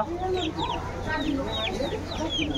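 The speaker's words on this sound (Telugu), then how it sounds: "చూడండి కోడి పిల్లలు కూడా అమ్ముతారు ఇక్కడ." Chicks and hens for sale at an outdoor organic vegetable market in Lal Bazar, Gangtok, Sikkim, chirp and cluck continuously in high, overlapping peeps, close and steady against a busy market hum.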